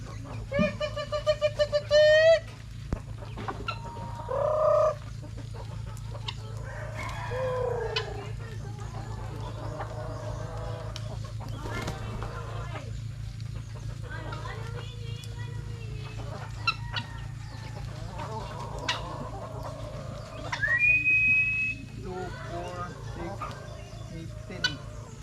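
Chickens cluck and a rooster crows in bursts over a steady low hum, with people talking intermittently nearby.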